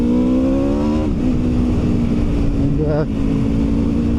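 An Aprilia RSV4 1100 Factory motorcycle engine drones while riding, its pitch rising through the gears before a sharp shift and a short blip, loud and close throughout.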